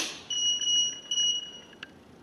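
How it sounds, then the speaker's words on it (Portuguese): A short run of high-pitched electronic beeps, one long sustained tone followed by a few quicker chirps, close and clear against quiet, signalling a device syncing with a virtual wall. "Escutamos então uma sequência de bip que mostra que a sincronia foi feita com a nossa parede virtual."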